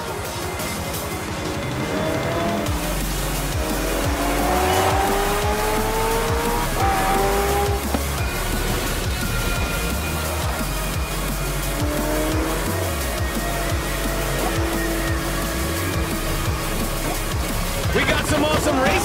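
Racing cars and hypercars in Forza Horizon 4 roar steadily through a street race, engines revving up and down under continuous loud tire squeal and skidding, with a brief voice near the end.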